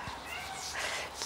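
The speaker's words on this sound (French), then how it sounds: "Excusez-moi, je suis perturbée par mon petit chat" A pet kitten meows softly in a brief, quiet indoor moment, with a voice talking faintly alongside it.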